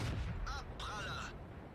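A tank shell ricocheting off armor in World of Tanks, a sharp metallic ping with a ringing whine lasting under a second, loud and close, with game voice callouts around it.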